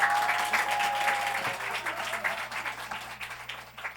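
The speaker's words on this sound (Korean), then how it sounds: "민욱이 목사님을 박수로 환영하겠습니다" A church congregation claps to welcome a pastor at a 14th anniversary thanksgiving worship service, with steady crowd applause that gradually thins and fades over about four seconds.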